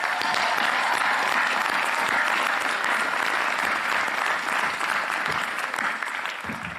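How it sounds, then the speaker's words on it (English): Sustained applause from a large audience at the 2025 USC Dornsife university commencement ceremony, a steady wash of clapping that stays loud throughout and eases off slightly toward the end, with no voices on top. "So let's please give them a big round of applause."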